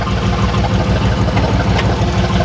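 A 1994 Chevrolet Astro van engine runs at a steady idle, a loud, close low-pitched rumble with an even pulsing rhythm and no talk over it.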